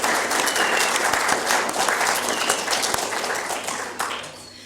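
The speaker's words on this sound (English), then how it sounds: "Yes, you can clap." An audience applauds at a university professorial lecture, a full, dense burst of many people clapping that holds steady, then thins and fades toward the end.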